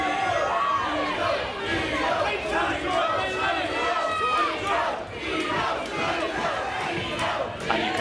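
Boxing crowd at a Craig Tipton Prizefighter eight-man tournament, shouting and cheering loudly and continuously throughout, a dense roar of many voices with bursts of yelling.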